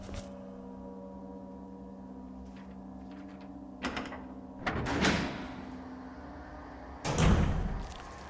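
A door in Resident Evil HD Remaster opening, heard as a few heavy mechanical thumps and a creaking clunk over a low droning ambient hum, with the last impact loudest.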